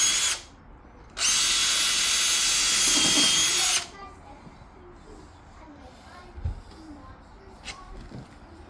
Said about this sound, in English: we're gonna pre-drill this so we don't split our jamb